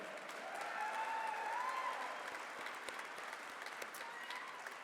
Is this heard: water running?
no